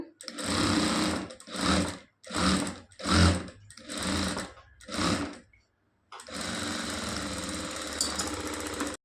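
A sewing machine stitches a long blouse in six short rattling bursts separated by pauses, then runs steadily for a longer stretch, loud and close.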